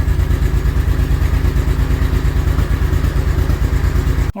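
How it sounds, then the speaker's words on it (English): A Honda VTX 1800 motorcycle engine idles close by with a fast, even thumping pulse, loud and steady, cutting off abruptly at the very end. "the motorcycle has been running for around 7-8 minutes now"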